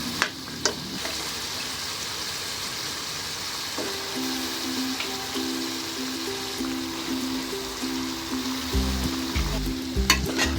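Cauliflower and potatoes, with spinach, frying in a pan as they are stirred together, a continuous sizzle under soft scraping, with a low droning tone entering midway and a few louder clatters near the end.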